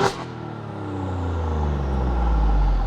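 An Alfa Romeo Giulia Quadrifoglio with a modified exhaust revs once, a deep engine rumble rising steadily in pitch and loudness from near idle to a strong drone, close by and without talk.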